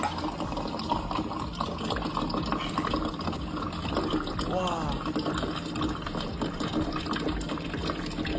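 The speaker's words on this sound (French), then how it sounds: "Arrête le robinet, s'il te plaît." Water runs steadily from a tap in a continuous rushing stream, with faint voices and some gurgling partway through.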